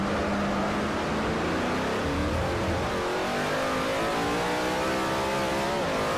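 Ford Falcon V8 supercar racing in Forza Motorsport 4, a loud continuous engine roar with rising revs and gear changes, several cars running together, no talking.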